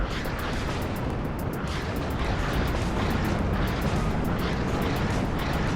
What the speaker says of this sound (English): Look at that constant stream of artillery, constant stream of mortars.